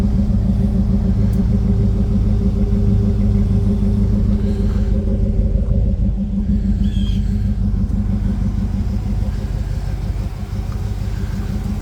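An OBS Chevrolet Tahoe engine running steadily with an original 40-series exhaust, a loud, close, continuous low rumble that holds level without revving.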